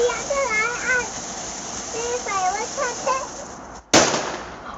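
A fountain firework erupts on bonfire night with a constant hissing spray, then ends in a sharp bang. Excited voices talk and call over it throughout.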